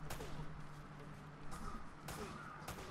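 Gunfire in the video game Uncharted: Drake's Fortune, a few sharp distant cracks spaced over a low rumbling background, with no talk.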